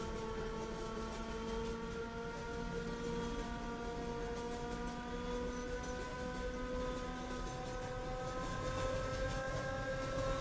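A Roblox train rolls steadily past a suburban train depot, a continuous loud rumble with sustained tonal whine and faint rhythmic clatter throughout, no voices.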